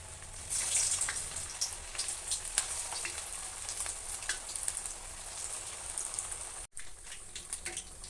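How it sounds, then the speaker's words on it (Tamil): Bread vada deep-fries in hot oil, giving a continuous bright sizzle and crackle with scattered popping bubbles. It is close and steady for most of the stretch, with a brief dropout near the end. "இப்போ நம்ம இதை எண்ணெயில் போட்டு பொரித்து எடுத்துடலாம்"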